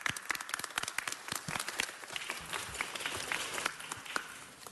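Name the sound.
audience applause for the Consul General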